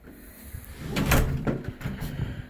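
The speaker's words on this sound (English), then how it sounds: "And that door closes." A full-bodied storm door on a house swings shut with a soft thud and rattle, a short cluster of knocks and latch clicks close by, then a brief settling noise.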